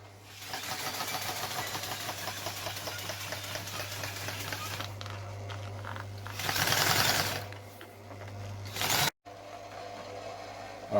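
A sewing machine stitching car interior upholstery material, a steady close mechanical whir with rapid needle rhythm running for several seconds, easing off and stopping abruptly near the end.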